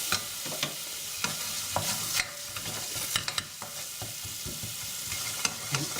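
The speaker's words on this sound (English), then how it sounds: "So fry off your spices." Spices frying in a pan as the base for a curry gravy, with a steady close sizzle and the occasional scrape and tap of stirring throughout.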